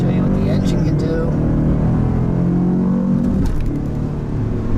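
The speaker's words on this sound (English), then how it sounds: "I'll show you what the engine can do." A 2018 Cadillac Escalade ESV Platinum's engine accelerating hard, a loud steady drone heard from inside the cabin that builds and shifts pitch partway through, with road noise filling the background.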